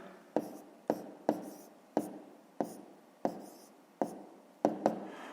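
A pen writing down an answer on paper, about nine short scratchy strokes in an uneven rhythm, close and quiet, with no talking.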